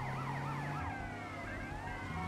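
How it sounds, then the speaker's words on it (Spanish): Police car sirens wailing during a chase in the video game GTA Vice City, several loud overlapping up-and-down wails that run continuously over a low engine hum. "¡Me persigue la chota!"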